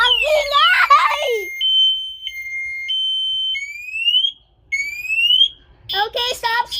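An e-bike anti-theft alarm goes off, piercing electronic tones alternating between two steady pitches, then rising sweeps. It is loud and close, with excited talking and a voice before and after.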